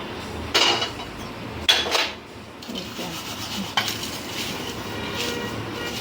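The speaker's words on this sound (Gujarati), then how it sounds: "આપણા ધાણા શેકાઈ ગયા ને હવે આપણે કાઢી લઈશું" Roasted coriander seeds are scraped and scooped out of a pan with a utensil, giving a few sharp metallic clinks and dry rustling, gritty rubbing, close and moderately loud.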